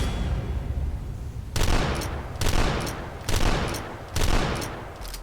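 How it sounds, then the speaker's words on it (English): Gunfire aimed at the player in the retro shooter Dusk: four loud, closely spaced bursts of shots about a second apart, each with a sharp onset and a short rumbling tail, alone without talk. "I got shot at the whole freaking time."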